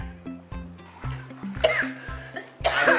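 A person coughs repeatedly in sharp, close bursts, about half a dozen in quick rhythm during a chicken scream game, with faint voices and noise in between.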